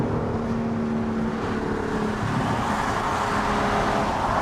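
An Audi R8 with an aftermarket exhaust roars loud and close as it downshifts and accelerates, a dense, sustained engine blare with no talking.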